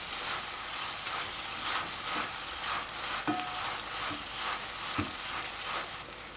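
Egg-filled pancake made from flour and water frying in a thin layer of oil in a flat pan, a steady close sizzle with occasional soft pops and taps of a utensil.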